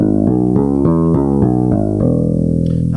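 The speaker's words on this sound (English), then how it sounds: "Now listen to a bass guitar." Deep, loud bass guitar notes step through a short descending-and-rising line, each plucked tone sustaining into the next before settling on a held low note, with no talking over it.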